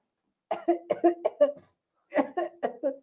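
A voice imitates coughing with two quick bursts of short, rhythmic cough sounds, close and clear, separated by a brief pause.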